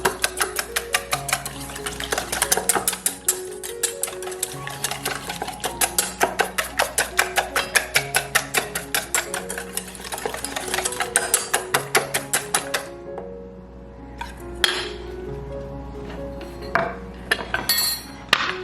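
Risol batter is whisked briskly in a bowl, a close, fast, steady clatter of whisk against the bowl that runs for about thirteen seconds, then gives way to a few scattered clinks and taps.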